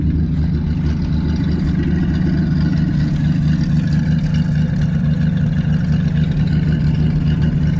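A steady, rumbling carbureted engine of a 1979 Ford F-350 Custom truck idles close by while warming up, its low throb holding even and unchanging throughout with no other sounds.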